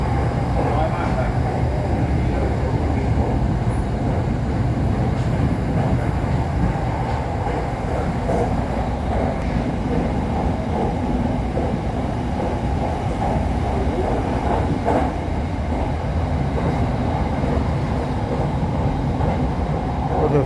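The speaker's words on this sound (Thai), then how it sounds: "รถไฟฟ้าสายสีแดงจะมารวมกันอยู่ตรงนี้พี่น้อง" A Bangkok SRT Red Line electric train rolls along from Don Mueang toward Krung Thep Aphiwat Central Terminal, a continuous rumbling ride heard from inside the carriage with faint clicks, while people talk over it now and then.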